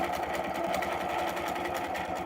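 A sewing machine stitches an arc in a design pattern, its needle chattering in a fast, even, continuous rhythm at moderate volume.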